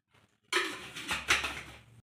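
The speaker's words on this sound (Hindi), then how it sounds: "ये हम तेल इसमें डाल रहे हैं।" Oil hits a pan for tomato chutney with a short sizzling splash that rises and fades over about a second and a half, close and fairly quiet, with no talking.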